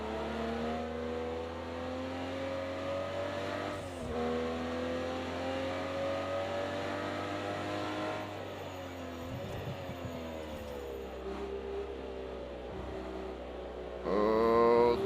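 Race car engine in Project CARS 2 at Bathurst, driving a DB11, holding a steady loud drone that revs and shifts down under braking, then climbs sharply again near the end.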